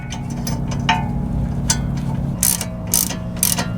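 A ratchet clicks close by while brake caliper bolts are tightened on a Ford Edge during a rear wheel bearing job, with several short bursts of rapid pawl clicking.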